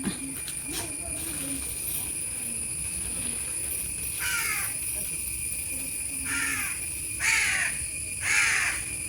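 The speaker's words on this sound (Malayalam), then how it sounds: "കാക്ക കുഞ്ഞുങ്ങൾ വന്നിട്ടുണ്ട്" Young crows cawing: four harsh calls spaced a second or two apart, fairly close, over a steady hiss, with faint talk near the start.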